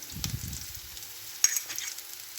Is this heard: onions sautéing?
yes